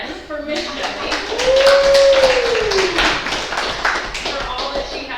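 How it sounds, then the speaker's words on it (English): Scattered clapping from a small group at a Rainier city council meeting, a handful of light, uneven hand claps mixed with people talking close by. "So, a round of applause again for Miss Shelley"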